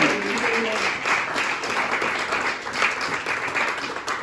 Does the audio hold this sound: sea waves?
no